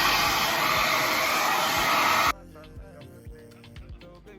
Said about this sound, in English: So what I'm gonna go ahead and do is blow dry.